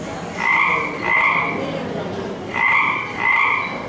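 Frog croaking beside a pond as a sound effect in a primary school cultural fest play, four loud, evenly spaced croaks in two pairs with a short pause between them.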